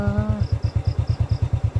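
A Honda 100 motorcycle engine runs on a rural road in Bulacan with a steady, fast low thumping putter, close and even, alone without talk.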